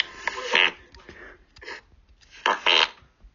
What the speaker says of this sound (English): I love how he records his farts.